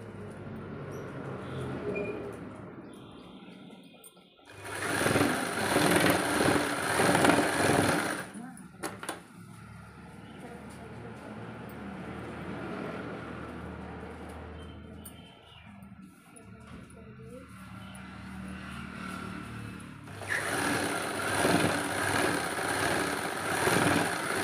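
A sewing machine stitches the side seams of a crochet-belt blouse in two loud, steady bursts of a few seconds each, with talking between them.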